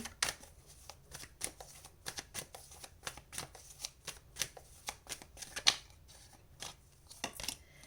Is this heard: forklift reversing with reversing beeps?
no